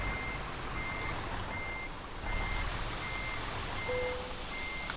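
A truck's reversing alarm in the video game Euro Truck Simulator 2 beeps steadily at an even rhythm over a loud, constant engine rumble, with a brief extra tone near the end.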